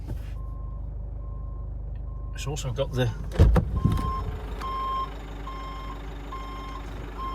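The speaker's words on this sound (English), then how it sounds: "you can hear that, it's got the reversing beep" A 2016 Nissan Navara 2.3 dCi 190 pickup sounds its reversing beep, a steady series of short electronic tones at close range, briefly interrupted by clunks and someone speaking.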